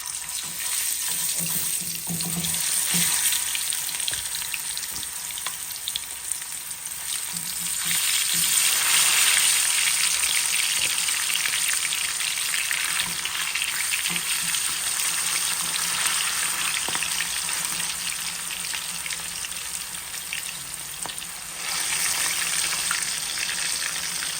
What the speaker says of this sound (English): So now that my oil is hot, I am going to add my fish, my kingfish